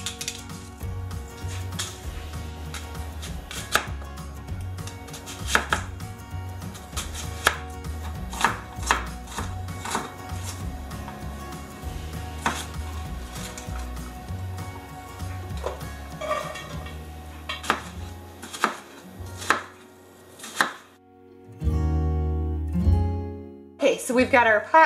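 Onions being chopped with a knife on a cutting board in a home kitchen, a steady run of close, crisp knife taps that stop near the end, followed by a louder clatter.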